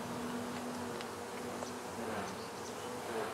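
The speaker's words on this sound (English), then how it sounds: "there's just so many bees" A dense, steady hum of many honeybees buzzing close by inside an open hive, continuous and fairly loud with no voices.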